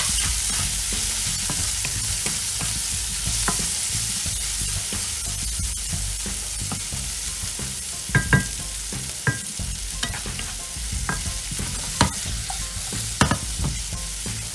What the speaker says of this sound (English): Then add the slices of red onion and our fried tofu. Continue sauteing.